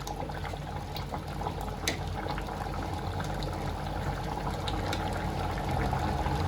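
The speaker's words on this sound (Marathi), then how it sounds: "मी गॅस एकदम स्लोवर ठेवलाय आणि स्लोवर मी आता ह्याला हळूहळू करून दमायला ठेवेल" Khichdi simmers in a pot over a low gas flame, giving a steady, dense bubbling and soft hiss that carries on evenly throughout, close and moderately loud, with no voices.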